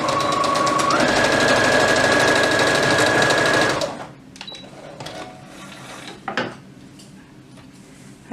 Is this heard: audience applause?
no